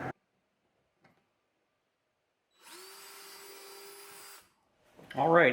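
Power drill fitted with a 3/16 inch bit boring a screw hole in a boat for a rudder kit: one steady whining run lasting under two seconds, close and clear, after a quiet pause, with a voice briefly at the start and end.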